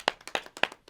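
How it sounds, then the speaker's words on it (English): A few people clap for the performers, sharp individual hand claps spaced irregularly in a short, close burst. "let's give a round of applause to our wonderful talent"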